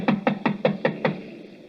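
Six even, hollow knocks on the great glass doors of Madame Tussaud's wax museum on a night in 1941, struck in a quick steady rhythm, close and fairly loud, with a short ring after each blow.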